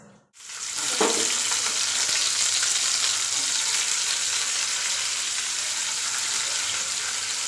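Onions frying in a pan with a little salt for a jackfruit biryani, a dense, steady sizzle that starts abruptly after a brief silence and holds loud and close throughout, with a faint stir near the start.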